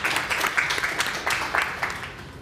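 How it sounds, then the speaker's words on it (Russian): Audience applause for two competing teams at a quiz game show, a short, moderately loud burst of many hands clapping with some voices mixed in. "Аплодисменты обеим командам."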